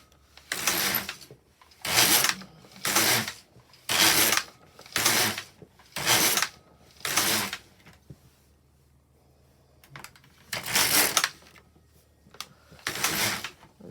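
LK150 knitting machine carriage knitting hem rows gives a close, loud run of seven rhythmic rasping passes, then a quiet gap, then two more passes.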